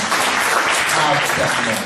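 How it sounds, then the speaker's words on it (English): Church congregation clapping together in praise during a testimony service, a short burst of dense, continuous hand claps with a voice speaking over it. "Give the Lord a mighty hand clap of praise."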